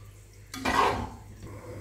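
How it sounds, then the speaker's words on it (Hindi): Rice being mixed into a pot of boiling water, two cups added before stirring, giving a brief swell of scraping, swishing sound over a steady low hum, no voices. "अब इसमें चावल डालेंगे। हमने 2 कप चावल डाल दिए। अब इसको अच्छे से मिक्स करेंगे"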